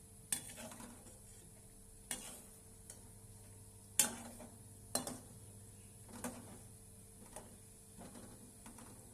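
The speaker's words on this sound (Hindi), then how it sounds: "ये सभी भून चुके हैं, घी में भूनना है।" Ingredients roasting in ghee, with a spoon striking and scraping the pan at irregular intervals, about one knock every second or two, over a steady low hum and faint sizzle.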